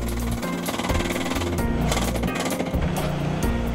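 Truline seawall sheet driven into the ground by powered equipment: a loud, continuous rapid pounding with a low mechanical drone and repeated heavy thuds, close and steady throughout.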